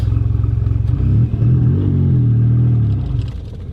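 A twin turbo Porsche 930 Turbo engine idles with a loud, close, rhythmic burble, then revs and pulls off with a rising, sustained drone before easing back.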